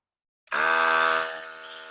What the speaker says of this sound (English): Activate the inflator.